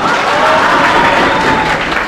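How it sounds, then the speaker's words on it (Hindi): A crowd claps loudly and steadily at a Kashipur event honouring a maths teacher, dense applause filling the whole stretch without a break. "एक बार मीडिया प्रभारी के लिए जोरदार ताली बजाइए"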